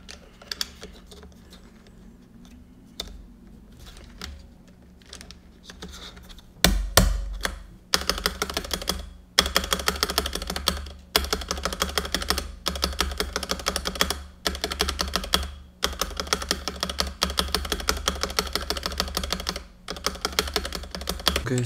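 Typing on a Nimbleback Kilmat keyboard fitted with thick silencing foam, starting as light sparse taps and becoming dense, fast, close keystrokes with a deeper, duller thud and no talking.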